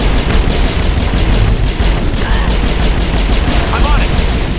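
Loud, sustained gunfire in a Mass Effect firefight against Benezia's forces, dense overlapping bursts and rapid shots filling the whole stretch with a constant roar and no pauses.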